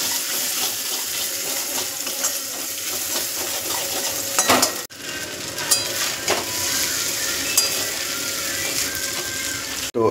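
Schezwan chowmein with egg, onion and chilli frying in a pan, a steady close sizzle with stirring and utensil scrapes, a couple of sharper clatters midway, no voices.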